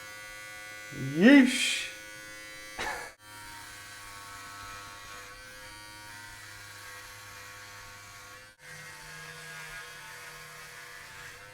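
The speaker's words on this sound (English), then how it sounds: "Clipper seems to be pretty strong. It's not tugging." An electric hair clipper set to third gear buzzes steadily and closely through a #2-guard buzz cut, holding an even drone with one brief dip. A short exclamation and a sharp noise come before it starts.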